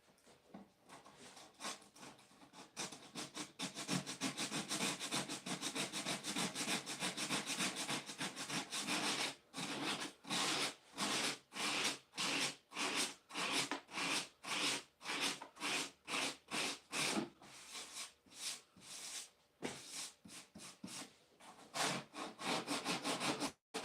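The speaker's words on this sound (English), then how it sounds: "Sanding block here." Sandpaper on a sanding block rasps across wood, starting as continuous rubbing and then settling into a quick, regular back-and-forth stroke rhythm.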